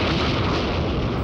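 A volcanic eruption explodes in a racing cartoon, a dense, loud, rumbling roar that fills the short stretch without letting up.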